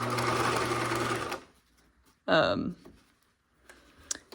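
A sewing machine runs a steady, close whir as it topstitches a pocket onto a caddy bag, a quarter inch from the edge. The stitching stops, and a short spoken phrase follows in a quiet room.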